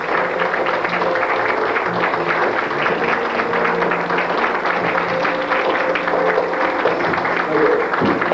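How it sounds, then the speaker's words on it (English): Audience applause fills the room at a combined IBM/SAM magic banquet show after a magician's act, a steady dense wash of clapping that holds evenly throughout with no break. "Let's give him a round of applause"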